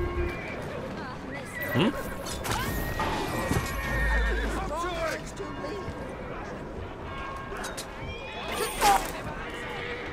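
Carriage horses in Assassin's Creed Syndicate whinny and neigh repeatedly around a halted coach, with hoof clops and street bustle underneath, while a man murmurs briefly over the commotion.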